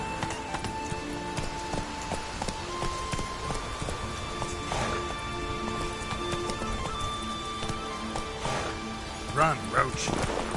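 Roach, the horse in The Witcher 3: Wild Hunt, gallops with steady, close hoofbeats under faint rain, with a voice speaking now and then over the hooves.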